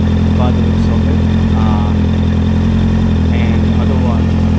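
Honda CBR650R motorcycle engine fitted with a Musarri Street Series exhaust, a loud, steady close-up idle rumble with a deep throbbing tone filling the whole stretch, a voice faintly audible beneath it.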